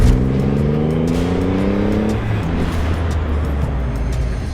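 A Triumph Rocket 3R motorcycle's big engine revs loudly and close, its pitch climbing in a rising sweep for about two seconds before settling back into a steady, throaty drone.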